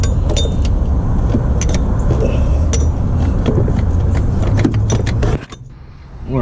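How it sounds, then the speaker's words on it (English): A pry bar levers the alternator out of an Infiniti G37 engine bay, giving close metallic clanks and scraping knocks over a busy mechanical background, ending abruptly in a quieter moment. "You can pry it out."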